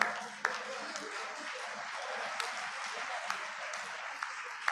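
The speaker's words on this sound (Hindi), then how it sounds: "जोरदार तालियां बजा करके स्वागत करें।" Audience applause at a district panchayati raj representatives' honour ceremony in Tosham, Bhiwani, a steady wash of many hands clapping throughout, with a few sharper individual claps standing out.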